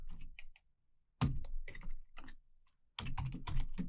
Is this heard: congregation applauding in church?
no